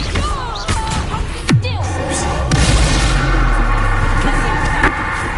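Bombarda spell explosions in Hogwarts Legacy, loud sharp booms and bangs, one striking hard mid-clip and followed by a rumbling tail, with other impacts around it and a voice speaking between.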